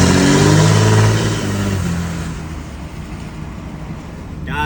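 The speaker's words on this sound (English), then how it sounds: "Derek, your truck sounds great." Diesel pickup with a 5.9 Cummins engine, Dynovox 5-inch turbo-back exhaust and S&B intake, revving loudly up close before the roar eases into a lower steady rumble.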